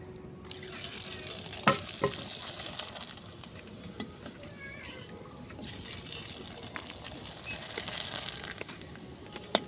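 Sago papads fry and puff up in hot oil, giving a steady crackling sizzle with a few sharper pops, close and moderately loud, with no voices over it.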